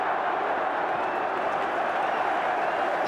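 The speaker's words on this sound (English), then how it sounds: "Kevin Moran gets a round of applause." A football crowd at an FA Cup fourth-round match between Manchester United and Coventry City gives a steady wash of applause and murmur, distant and continuous, with no distinct voices over it.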